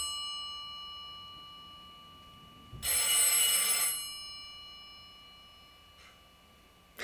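An old 1960s-70s pharmacy telephone gives one loud, jangling bell ring lasting about a second amid quiet room tone, followed by a faint, short trace of a second ring near the end.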